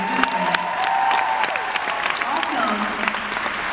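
A crowd applauds steadily with dense clapping at a concert at The Theatre at Ace Hotel, Los Angeles, while a voice and some musical tones carry on underneath.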